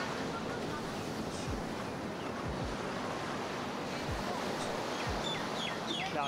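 Steady surf and wind roll across the main beach at the Kempinski Resort in Baie Lazare, Seychelles, on a cloudy day, a continuous wash of waves with gusty microphone buffeting and faint voices in the background.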